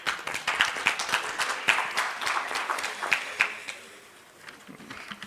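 Audience applause at a spectrum management conference in India: a dense, steady burst of clapping that carries on for several seconds, thins out near the end, then briefly picks up again.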